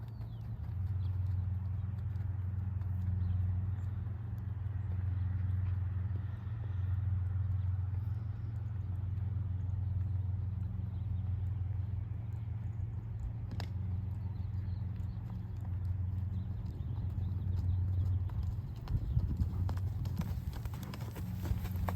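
A horse jogs around an arena, its steady low thudding hoofbeats continuous and fairly close under a constant low rumble, with no talk.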